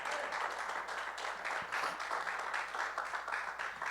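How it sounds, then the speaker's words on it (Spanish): Applause from a church congregation praising God during a pastor's service, a dense, steady clapping wash that holds at moderate level throughout, somewhat distant with no talk over it. "Dale un aplauso a Dios por eso."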